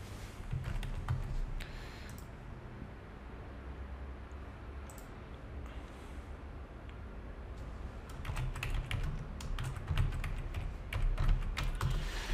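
Rapid, continuous typing on a computer keyboard, with close, quiet key clicks that grow slightly louder toward the end.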